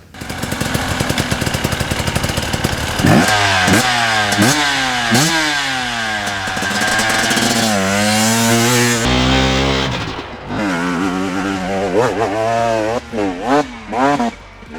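An enduro motorcycle accelerating hard up a hill climb in third gear. The engine is loud and close, rising in pitch through repeated revving sweeps, easing off briefly, then surging again toward the end.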